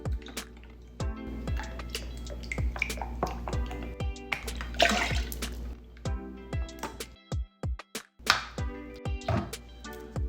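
Lime juice drips and splashes in short wet squirts as a shot is poured and squeezed for a non-alcoholic margarita, a series of close, irregular liquid drops and squishes.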